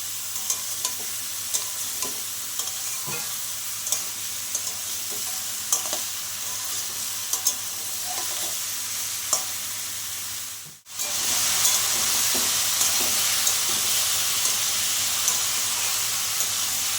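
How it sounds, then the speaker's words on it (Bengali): Chopped ridge gourd fries in a hot pan, a constant sizzle broken by regular scraping clicks of stirring. Near the end the sound briefly drops out, then the sizzling resumes, loud and close. "একটুখানি সময় ভাজা করে নিয়েছি"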